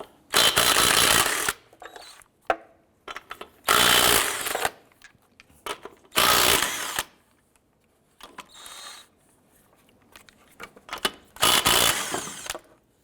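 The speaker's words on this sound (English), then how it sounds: "Using a 19mm socket, go ahead and remove the lug nuts." A power tool with a 19mm socket spins lug nuts off a 2001-2005 Honda Civic wheel in four loud, close bursts of about a second each, separated by quieter handling clanks.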